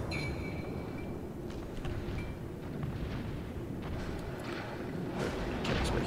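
Battleship main guns firing in World of Warships, heavy rumbling booms and bursts over a dense low roar of the engagement, with no talk.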